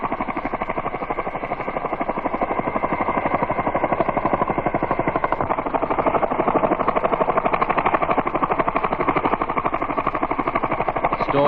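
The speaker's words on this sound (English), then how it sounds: "Resupply helicopters are made available from aviation units of the United States Army." A United States Army resupply helicopter, a steady loud rotor chop with rapid regular thumping and engine roar, sustained and close throughout.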